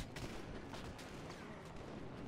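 Continuous dense gunfire from a GTA roleplay shootout on a Star Town server, a steady wash of rapid shots with scattered sharper bursts, loud and unbroken throughout with no clear talk.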